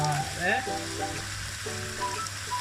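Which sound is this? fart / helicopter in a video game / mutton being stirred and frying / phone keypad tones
mutton being stirred and frying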